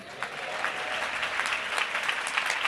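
A church congregation gives a hearty round of clapping for an elder, dense and continuous with brief sharper peaks, close and fairly loud with no talk over it.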